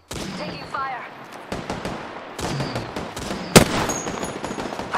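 Video game gunfire in a ranked battle royale match, sharp bursts of shots scattered over the stretch with one loud near crack, mixed with a speaking voice and game effects.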